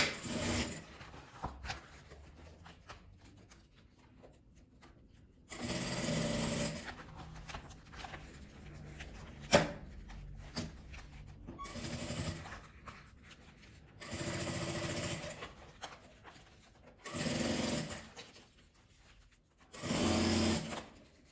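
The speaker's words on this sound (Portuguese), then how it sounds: "E agora aqui eu já vou passar uma costura direto nele." A sewing machine stitching a seam along the bias binding of a clear plastic crystal cosmetic bag, running in several short bursts of rapid whirring with quiet pauses and handling noises between them.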